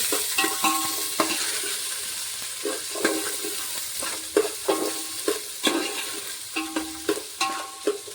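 Chopped onions fry in a pan for kichdi under a soft, steady sizzle, with a spoon scraping and clinking against the pan in a fairly regular rhythm; the strokes grow sharper toward the end. No one speaks.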